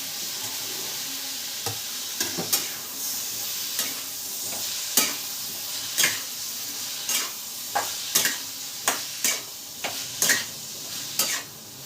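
Steady sizzling of eggplant and potatoes frying in a wok, broken by regular scraping clicks of a spatula stirring, close and continuous with no voices.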